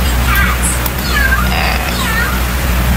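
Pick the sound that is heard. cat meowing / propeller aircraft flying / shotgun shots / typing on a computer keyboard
cat meowing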